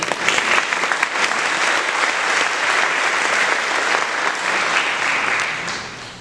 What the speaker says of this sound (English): Thanks for clapping when we haven't done anything yet.